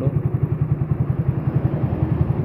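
Suzuki Satria F150 motorcycle engine, smoking badly, idling in a repair shop with a rapid, even chugging pulse of close, loud low firing beats, alone without talk.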